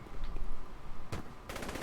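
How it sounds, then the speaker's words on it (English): Tank cannon fire in the video game Saints Row the Third: a sharp broadband blast near the middle, then a second louder burst of rattling gunfire-like noise that continues to the end, over a low rumbling game background. "Just a tank."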